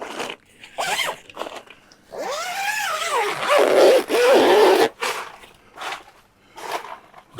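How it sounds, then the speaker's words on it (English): A zipper is drawn along the fabric of an Outdoor Revolution Movelite T2 drive-away awning in several short, rasping pulls close by, with a dog whimpering and barking in between. "Let's zip this bit up a bit."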